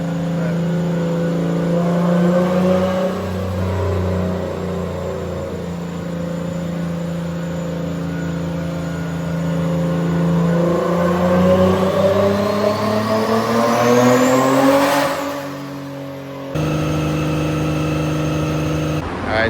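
An engine revs loudly on a dyno at a tuning shop, a long rising pull building to a high peak before cutting off, with another car's sound following.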